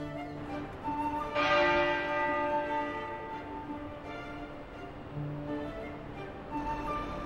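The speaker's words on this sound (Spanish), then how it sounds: "99 veces han repicado las campanas de la Abadía de Westminster en honor a los 99 años que tenía Felipe de Edimburgo." Bells of Westminster Abbey ringing out in tribute, a sustained resonant peal heard from a distance with a broad outdoor ambience, strikes swelling about a third of the way in and lingering to the end.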